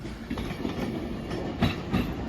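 Avanti West Coast Class 390 passenger train, the Manchester Piccadilly to London Euston service, rolls into Crewe station with a steady rumble and a few rhythmic wheel clacks over the rails, close by.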